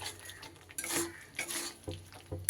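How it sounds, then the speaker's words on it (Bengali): A spatula scrapes and clatters against a pan while spice masala for katla fish curry is stir-fried, giving several distinct metallic strokes over a faint sizzle, close and fairly quiet. "এবার একটু গ্যাসটা বাড়িয়ে দিয়ে আমি সুন্দর করে কষিয়ে নেব মশলাটা যতক্ষণ না তেল ছাড়ছে"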